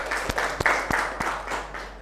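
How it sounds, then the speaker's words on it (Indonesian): A class applauds in a brief, sparse burst of about half a dozen sharp hand claps, close and uneven, over a steady low hum. "Kasih tepuk tangan semuanya."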